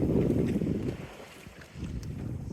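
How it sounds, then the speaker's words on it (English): Strong wind buffets the microphone aboard a small West Wight Potter sailboat near Manitoulin Island, a loud low roar in gusts that eases briefly midway before rising again, with no voices. "Wind's picked up a bit in the last half an hour or so."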